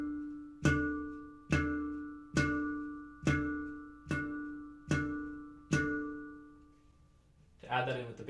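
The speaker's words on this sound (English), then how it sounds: "I'm going to use a central note harmonic isolation, sometimes referred to as a harmonic knock." Seven evenly spaced harmonic knocks on a harmonica, each a sharp struck note isolating a central tone that rings and decays, followed by a short breathy chord at the end; no talking.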